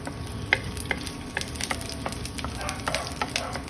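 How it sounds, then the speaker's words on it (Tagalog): Garlic sautés in a pan for ground beef with bitter melon, a busy frying sizzle broken by sharp clicks and scrapes of a utensil stirring against the pan, all without talk. "saute the garlic"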